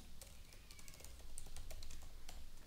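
Computer keyboard typing while entering custom CSS in a blog editor: a rapid run of light, irregular key clicks, close and fairly quiet, with no voice.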